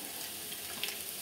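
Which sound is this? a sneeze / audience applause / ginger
ginger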